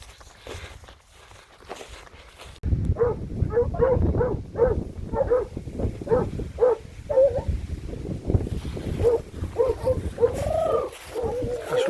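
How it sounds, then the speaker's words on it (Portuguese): Hunting dogs bark in a steady, rapid string of yelps while tracking a wild boar's trail through a cornfield. The barking starts abruptly after a quiet stretch and continues under faint birdsong, with rustling movement close by. "O cachorro pegou o rastro da porca"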